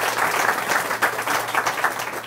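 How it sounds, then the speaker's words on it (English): Audience applause at a scholar reception as a superintendent is introduced, dense steady clapping from a crowd filling the whole stretch at an even, lively level. "Please give him a nice round of applause"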